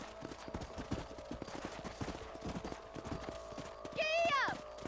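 Horse hooves clip-clop at a gallop in the Red Dead Redemption video game, a steady drumming rhythm of close hoofbeats with a neigh or whistle-like cry near the end over a continuous background hum.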